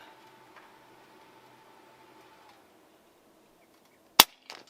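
An Air Arms S510XS Stealth Carbine .177 air rifle fires a JSB pellet: one sharp, loud crack after near-silence, followed a moment later by a fainter secondary snap.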